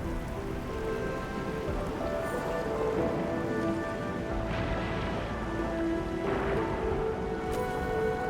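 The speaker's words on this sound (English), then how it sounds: "It's raining harder. I can't hear anything except for the rain." Heavy rain in the video game Arknights: Endfield is a steady dense hiss and patter, loud and constant throughout, with faint tonal game sounds under it.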